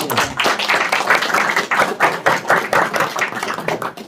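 A city commission meeting audience breaks into applause, a dense run of many hands clapping steadily for about four seconds at close to moderate distance, with no talking over it.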